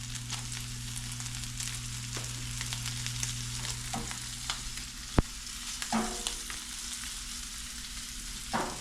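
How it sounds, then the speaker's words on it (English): Floured quail frying in hot oil in a pan, a steady close sizzle with a low hum underneath, one sharp click in the middle and a few brief scraping bursts toward the end. "We are going to take it to a hot pan over here, and we are going to set it in here, and we're going to fry it on each side."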